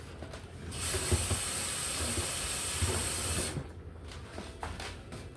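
Tap water running steadily while raw chicken is rinsed in a kitchen sink, a soft, fairly faint hiss with light splashing that fades near the end.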